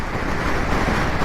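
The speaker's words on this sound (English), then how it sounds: "That is windy as hell." Steady, loud gusty wind roars and buffets a nearby microphone in the Brecon Beacons, a broad rushing noise with no pauses.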